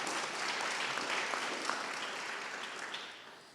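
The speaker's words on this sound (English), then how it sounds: "let's give them a round of applause as well" An audience at a pitch competition event applauds, a dense, steady wash of clapping from a large crowd that holds briefly and then begins to fade, with no voices over it.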